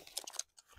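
A lightweight backpacking stool being folded up, giving a short run of close, crisp rustling and clicking scrapes that stop briefly, then one more soft scrape.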